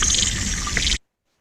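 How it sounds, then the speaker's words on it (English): Freshwater aquatic insects captured underwater by hydrophone give a dense, continuous buzzing and clicking texture with watery ticks, steady and fairly loud for about a second before cutting off to silence. "all of these aquatic insects make very distinctive sounds as well"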